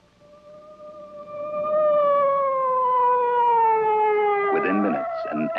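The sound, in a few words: ambulance siren in Astro Boy cartoon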